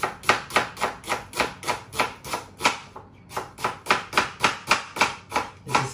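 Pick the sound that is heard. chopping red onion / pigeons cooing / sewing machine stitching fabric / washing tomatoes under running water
chopping red onion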